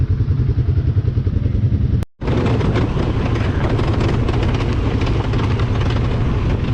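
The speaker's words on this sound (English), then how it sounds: "The noise these Polaris make when you're fucking braking." Loud, rattling engine noise of a Polaris Sportsman 570 ATV with metallic clanking from braking, cut by a brief silent gap, then resuming with busy clatter and rumble.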